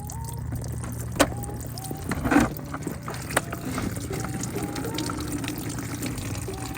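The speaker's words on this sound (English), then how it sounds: "open that bleed valve and, well, that drain plug, and then just drain all your coolant out" Coolant drains from a BMW E36 328i with an M52 engine through the opened drain plug into a bucket, making a steady liquid trickle and splash broken by a few sharp clanks nearby.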